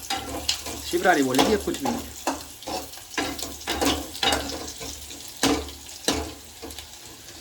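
Onions for a tadka fry and brown in hot oil in a pan, giving a steady close sizzle with stirring scrapes while a person talks over it.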